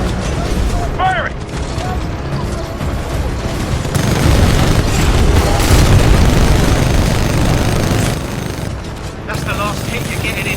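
Titan weapons firing in the Titanfall 2 video game: heavy booming shots and rapid gunfire bursts, loud and sustained, swelling to a dense barrage midway, with voices speaking briefly around the shooting.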